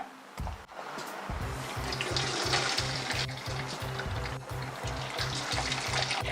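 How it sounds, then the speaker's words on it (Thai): Roselle juice is poured through a strainer lined with double-layer cheesecloth into a pot, making a steady splashing trickle with rhythmic pulses. It is close and continuous with no talking. "เดี๋ยวเราจะกรองจนเสร็จเลยค่ะ"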